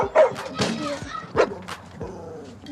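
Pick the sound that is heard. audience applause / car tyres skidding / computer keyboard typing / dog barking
dog barking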